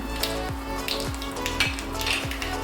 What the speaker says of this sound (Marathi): तेल गरम झाले त्याच्यात मोहरी घालून घेऊया त्यातून हिंग घालूया